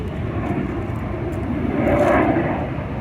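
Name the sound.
two F-18 Hornet jets flying overhead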